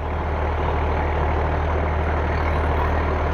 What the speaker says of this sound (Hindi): आपको अब हम सत्यम रोटावेटर चलता हुआ दिखाएंगे